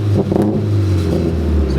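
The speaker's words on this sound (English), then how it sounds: "So you hear how it pops in between like his revs?" An SR240 engine revs in short bursts, with popping between the revs as excess fuel dumps, heard close and loud with a voice talking over it.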